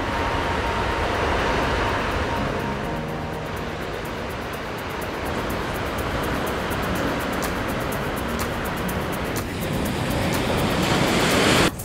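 Ocean waves wash steadily onto the beach at Point Dume in Malibu, a continuous broadband surf roar with gusts of wind noise, no voices, holding steady for the full length and swelling slightly toward the end.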